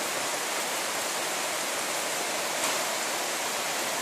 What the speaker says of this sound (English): But the rain is coming down.